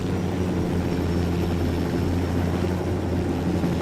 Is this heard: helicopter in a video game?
yes